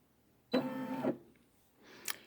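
A Brother SE600 embroidery machine moving to its first stitch gives one loud, close mechanical whir of about half a second, followed by quieter clicks and a short sharp tick.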